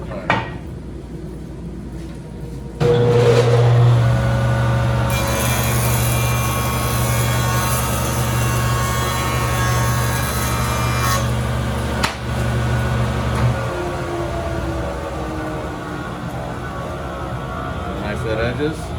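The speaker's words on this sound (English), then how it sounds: "We're just going to clean this up on the joiner." A wood jointer motor starts with a clunk and a loud, steady whine while a board edge is fed through and planed, then winds down; the drone stays constant throughout.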